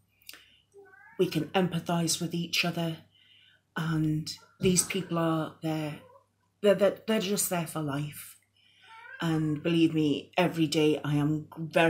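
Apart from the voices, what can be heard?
cat meowing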